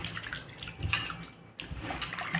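Pieces of white pumpkin are washed in water in a kitchen, with continuous splashing, sloshing and pouring that stays close and fairly loud, broken by a brief lull partway through.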